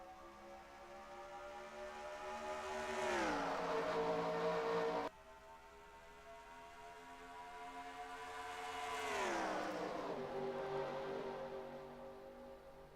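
Race truck engines roar past at a green flag restart in the NASCAR Racing 2003 video game, rising to two loud swelling passes with falling pitch as they sweep by, no talk.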